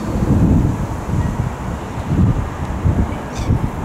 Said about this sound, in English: A wee bit windy, but sun side.